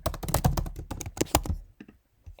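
Rapid computer keyboard typing up close, a dense burst of key clicks followed by a few sparser taps, with no voices.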